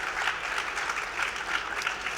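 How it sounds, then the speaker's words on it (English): Steady applause from a tech conference audience for App Olympics 2024 winners, a crowd clapping continuously at moderate loudness with no talking. "huge round of applause for these wonderful four winners of the App Olympics 2024"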